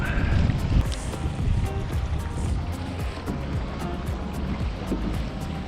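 Wind-driven saltwater chop slaps steadily against a fishing kayak on a fall day off New Jersey, a continuous rushing wash with irregular splashes close by and no voices.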